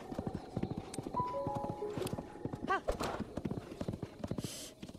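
A horse's hooves clip-clop in a steady, fairly close rhythm in The Legend of Zelda: Breath of the Wild, with a brief whinny partway through and someone talking over it.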